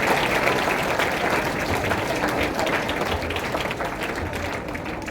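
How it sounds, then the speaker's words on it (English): An audience breaks into applause after a school value education show, a dense, even roar of many hands clapping that holds steady for several seconds and eases slightly toward the end. "Let's give them a roaring round of applause."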